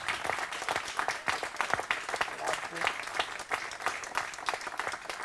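An audience closes an evening lecture at a summer university with sustained applause, rapid overlapping claps at moderate volume, while a voice speaks over the clapping.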